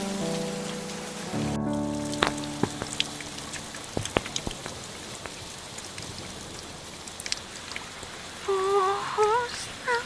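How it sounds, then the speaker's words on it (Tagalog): Heavy rain pours steadily onto surfaces in the Philippines' Mimaropa region, a dense continuous hiss with scattered louder drops, while a soft sung melody rises briefly near the end. "Buhos ng ulan,"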